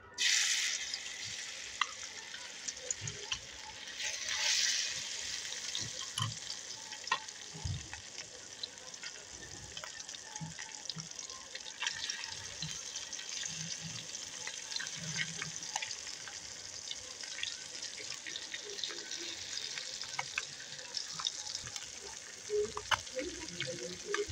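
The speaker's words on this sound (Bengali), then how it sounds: "মাছগুলোকে এই তেলে দিয়ে দেব।" Small puti fish fry in hot oil with a continuous crackling sizzle, moderately quiet and close, broken by occasional stirring clinks and a few louder pops.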